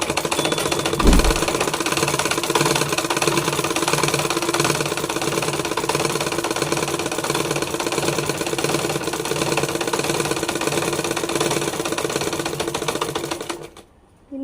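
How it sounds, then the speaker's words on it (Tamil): Sewing machine stitching a straight seam along the side of a pillow cover, a loud steady rapid mechanical clatter running for about thirteen seconds before stopping abruptly near the end. "அடுத்த சைடு தைக்க போகிற அதே மாதிரி தான் ஸ்ட்ரெயிட்டாக தைக்க போகிறோம்"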